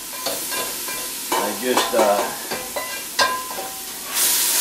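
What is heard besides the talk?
ground bison sizzling in a hot pan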